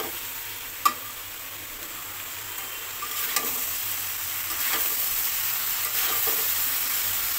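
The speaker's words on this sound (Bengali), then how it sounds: "এভাবে কিছুক্ষণ পরপর নেড়ে দেব" Mixed vegetables with lentil dumplings (dal bori) and a little sugar frying in a pan: a steady soft sizzle with a few sharp spatula taps and scrapes spread across the stretch, no talking.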